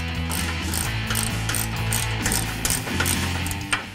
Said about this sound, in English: We're going to tighten the clamps here between the factory pipe and our Borla.